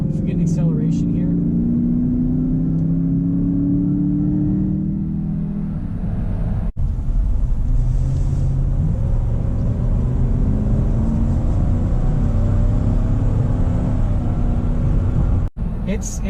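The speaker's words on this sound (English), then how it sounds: "we're going to do a bit of an acceleration and everything, just to see how much power this truck has" A 2018 Chevy Silverado 1500 V8 pickup accelerating on the interstate, engine drone rising in pitch through gear changes under heavy road and wind rumble, heard from inside the cab, loud and continuous.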